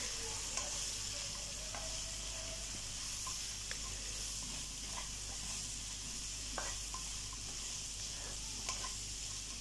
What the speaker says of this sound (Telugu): ఇవన్నీ మట్టికాయలు వేసేసుకొని ఇలా కలిపేసుకోవాలండి.